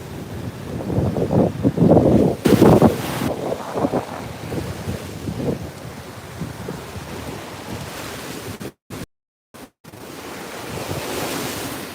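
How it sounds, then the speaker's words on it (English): Ocean waves break and wash onto a Hawaiian shore in a loud, rolling surge, with wind buffeting the microphone and a brief dropout near the end. "I could just stand here and look at it for days. The waves."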